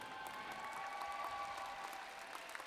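Steady applause for graduates at a 2021 law school graduation ceremony, a continuous even patter of clapping from the audience, fairly faint and distant throughout.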